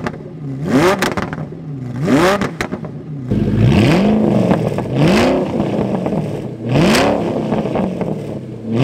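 A 2020 Lamborghini Huracan Evo, four-wheel drive with 640 horsepower, revs hard in a garage: repeated sharp throttle blips rise and fall in pitch, five or six loud surges separated by brief idling pauses, close and powerful.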